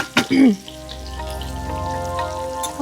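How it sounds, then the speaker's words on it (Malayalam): Chicken pieces fry in a pan for a chicken curry, a steady crackling sizzle that holds throughout, with a brief voice and a clatter at the start. "നമ്മുടെ ചിക്കൻ ഇങ്ങനെ ഫ്രൈ ആയിക്കൊണ്ടിരിക്കുകയാണ്"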